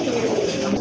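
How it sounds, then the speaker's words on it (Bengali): Racer pigeons give a short, close, low cooing sound that fills a single brief moment. "আরেক জোড়া রেসার কবুতর"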